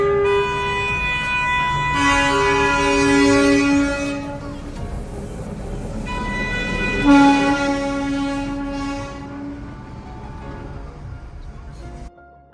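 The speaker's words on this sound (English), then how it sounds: "You can hear the siren of the train coming from the opposite direction." The Darjeeling toy train on its hill line through a market blows two long, loud horn blasts a few seconds apart, heavy rumble of the passing train beneath, fading toward the end.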